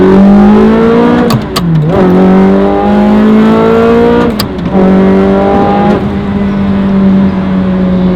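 A manual Ferrari Challenge Stradale engine revs hard while driving, its loud, close, rising engine note broken by two brief dips as gears change before it climbs again.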